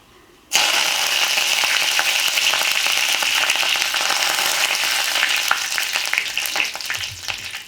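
Curry leaves hit hot oil in a frying pan during cooking of a vegetarian bottle gourd (lauki) dish, bursting into a loud, steady sizzle after a brief quiet start, with crackling and spatter continuing throughout.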